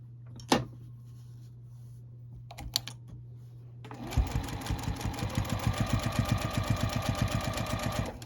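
Sewing machine stitching binding onto a quilt, a steady rapid run of needle strokes starting midway after a few isolated clicks and handling knocks, close and fairly loud with no talking.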